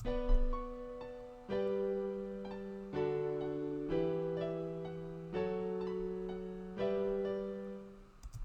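Sustained keyboard chords play in sequence, each new chord struck roughly every second and ringing out, clean and alone with no voices.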